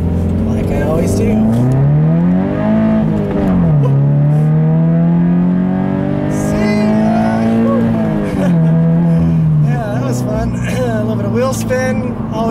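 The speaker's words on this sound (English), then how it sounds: "I'll leave you guys with a nice little acceleration here" A Scion FR-S / Subaru BRZ convertible accelerates hard with wheel spin: loud, close engine revs that climb, shift and climb again through repeated gear changes over a dozen seconds.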